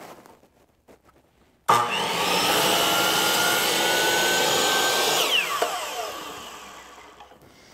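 A wooden spatula blank is sawn to size in a woodshop: one steady, loud cutting run of about four seconds starts abruptly and then fades away. No one talks.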